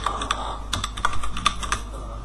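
Quick, light keystrokes on a computer keyboard as a password is entered, a short irregular burst of close clicks in a quiet room.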